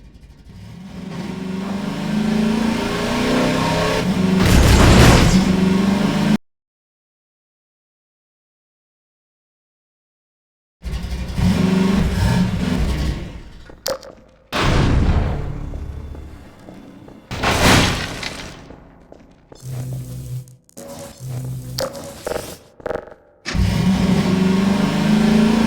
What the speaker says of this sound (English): Buggy sound engine. The audio for the Buggy was challenging